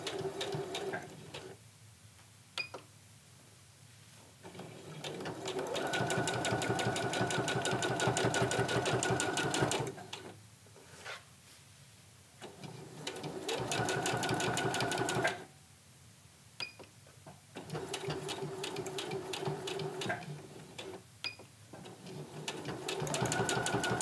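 A sewing machine sews straight stitches with the needle in center position to box the corners of a fabric bag, running in three long steady bursts of fast mechanical stitching separated by brief quiet pauses.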